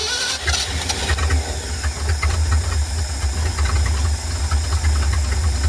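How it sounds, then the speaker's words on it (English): An old carbureted motor chugging as it runs, a loud, close, continuous rumble with knocking and a hissy, airy wash layered over it, steady and unbroken. "She's chugging away here. That accelerator pump may or may not come around."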